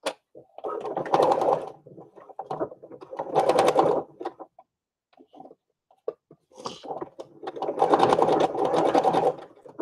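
A sewing machine stitching a stickpin lace book, running in three loud, close bursts of rapid, rattling stitches separated by pauses filled with small handling clicks.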